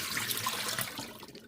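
Water pours into a kitchen sink during rinsing, a steady near hiss and splatter that thins out toward the end.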